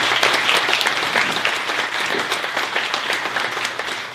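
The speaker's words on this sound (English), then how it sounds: "A round of applause." Sustained audience applause at the City of West Covina 2018 State of the City event, a dense, steady wash of many hands clapping close by throughout, with no break.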